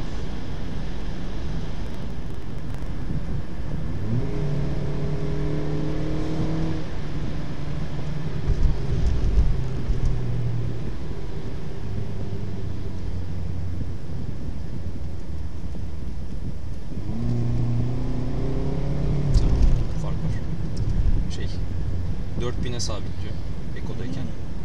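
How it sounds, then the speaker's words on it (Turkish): A Toyota Yaris 1.33 petrol engine, heard from inside the car in sport mode, climbs in pitch during two separate accelerations. A voice talks over the steady cabin and road rumble. "Sporttayken 4000'e hemen geçiyorum."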